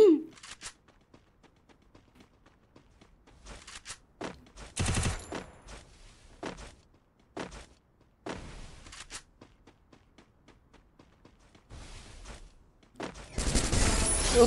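Video game gunfire exchange: scattered bursts of automatic fire and single shots crackle intermittently over a quiet background, with louder clustered volleys near the middle and end.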